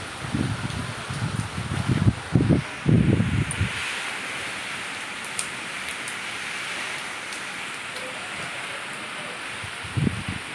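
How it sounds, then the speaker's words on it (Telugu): Strong wind blows steadily during a rainy late-morning storm, a continuous broad rush with heavier low gusts buffeting the microphone over the first few seconds and again briefly near the end. "ఆ టైంలో ఇట్లాగా గాలి చూడండి."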